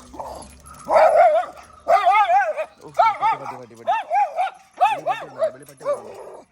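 A pet dog, freshly bathed, gives a run of repeated close, loud yelping barks and whimpering yips in quick uneven bursts, nearly continuous from start to end.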